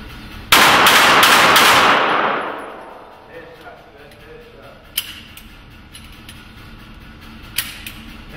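Gunfire at an outdoor gun range: a loud, rapid burst of shots up front that rings out and fades, followed by a couple of isolated sharper cracks later, with faint voices in the background.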